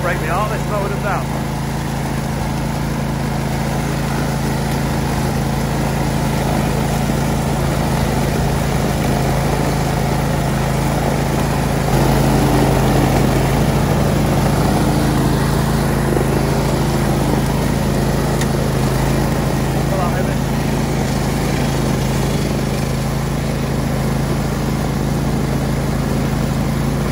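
A lawn mower cuts down a maze field, giving a steady droning engine hum that runs the whole time at an even level, with people talking over it.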